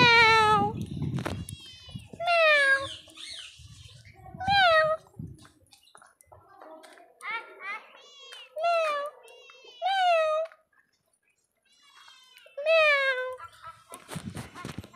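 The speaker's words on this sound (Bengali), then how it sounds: "ম্যাও" A cat meows several times on a dirty street in the midday sun, each call a drawn-out, falling cry separated by short pauses, with a person talking in between.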